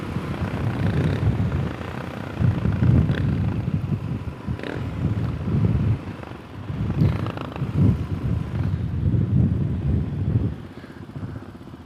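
Heavy wind buffets the microphone while riding a motorcycle on new GPR 300 tires, a loud, rumbling, gusting roar that swells and dips throughout.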